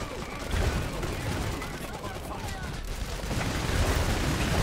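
Sustained suppression gunfire rattles across a battlefield in the dieselpunk strategy game Iron Harvest, dense overlapping shots and booms forming a continuous roar at steady loudness.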